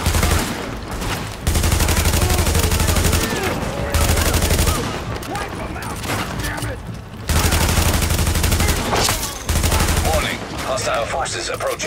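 Rapid bursts of automatic gunfire and overlapping shots in the video game Tom Clancy's The Division, loud and near, repeating in dense volleys with brief lulls while a voice speaks over the combat.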